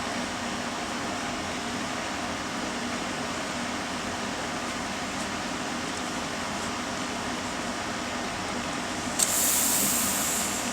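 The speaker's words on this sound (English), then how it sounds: "we are going to pour the balloon with Eno fruit salt into the water" Eno fruit salt fizzes in water inside a balloon as it inflates, giving a steady soft hiss that runs throughout, with a brighter burst of hiss near the end and no talking.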